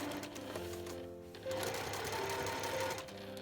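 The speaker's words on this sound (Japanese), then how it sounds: "1センチ先に針を下ろして返し縫いからスタートしていきます。" A sewing machine runs close up, backstitching through thick layers of shoulder bag fabric in short stop-and-start bursts of rapid mechanical stitching.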